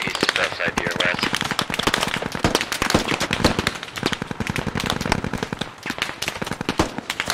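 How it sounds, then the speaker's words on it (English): Rapid automatic gunfire in the military shooter game Squad near a red barn, dense bursts of shots cracking continuously at close range, with a voice speaking over the firing. "I'm getting shot at."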